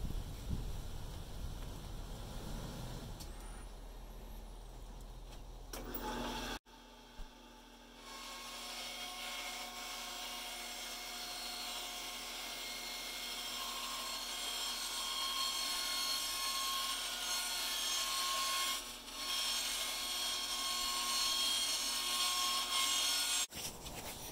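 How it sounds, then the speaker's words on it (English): A bandsaw cuts a bamboo-backed bow limb to shape in a workshop. A steady, close whine and rasp runs for about twenty seconds after a short start-up, with no talking. "I'm going to take it to the bandsaw, and we will cut it to shape."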